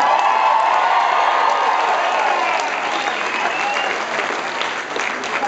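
Live concert crowd at an outdoor zoo music event applauding and cheering after a set, a dense, loud, sustained wash of clapping with scattered shouts and whoops throughout.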